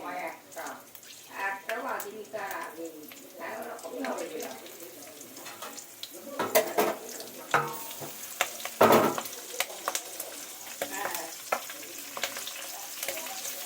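Nigella seeds, green and red chillies and bay leaves fry in plenty of oil in a kadai for brinjal bharta, sizzling and crackling with stirring scrapes while a person talks intermittently.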